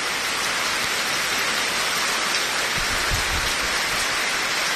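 Heavy rain pours steadily in Abohar, a dense, loud hiss of downpour on surfaces that holds unbroken throughout, with a few low thuds near the end and no voices.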